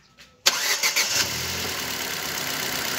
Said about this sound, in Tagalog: yan na yung andar niya. Ford EcoSport.